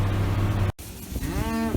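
Cattle lowing on a farm after corn silage harvest, one long deep moo up close with a second rising, tonal call following a brief gap, carried over steady outdoor background noise.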